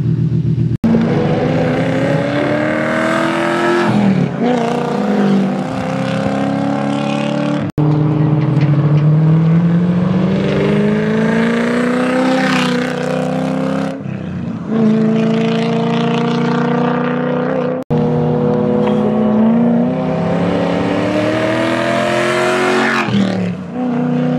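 A BMW E30 drift car with a V8 swap runs hot laps on a race track, its engine loud and continuous, repeatedly revving up through the gears with sharp lifts and surges and no talking over it.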